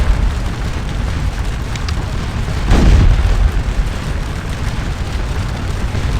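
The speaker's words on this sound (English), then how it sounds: "Our artillery is doing also a great number of damage." Artillery explosions in the Napoleonic battle game Scourge of War Waterloo: a continuous noisy battle din with one deep, rumbling boom swelling up near the middle, loud and close.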